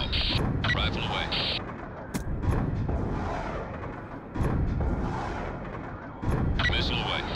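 A Hellfire missile launched from a Reaper drone in a video game, heard as a sharp launch burst followed by a rushing roar, with repeated booms and whooshes amid beeping interface tones and radio chatter.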